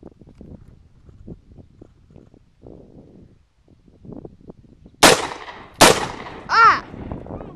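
Two sharp, loud AR-15 rifle shots crack outdoors about a second apart, with a ringing metallic ping after them, following a stretch of quiet, indistinct talk.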